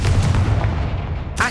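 A Confringo blasting spell explosion in Hogwarts Legacy, a loud, deep booming blast that rolls and decays over about a second before a brief sharp burst near the end.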